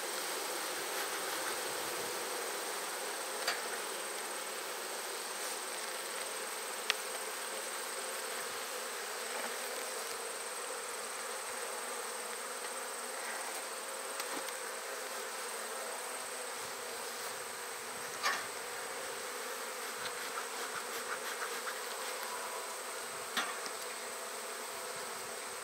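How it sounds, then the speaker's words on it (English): Continuous buzzing of a crowd of honey bees inside a new hive, even and sustained throughout, with occasional soft knocks and clicks breaking through the drone. "Seeing lots of bees in here, which is good."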